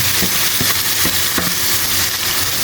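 Marinated chicken hits a hot pan and sizzles loudly and steadily, with a few stirring scrapes cutting through the continuous frying hiss.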